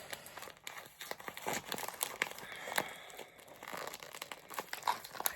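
A heavily taped package is torn and pulled open by hand, with close, continuous crinkling and ripping of tape and paper that comes in uneven bursts, with no speech.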